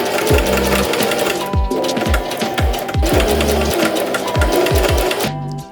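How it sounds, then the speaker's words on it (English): Sewing machine edge stitching along the fold of bias tape on a dress, running in loud rapid bursts with short pauses and repeated low thumps as the fabric is guided along, close to the microphone and with no talk. "we're going to edge stitch along the fold"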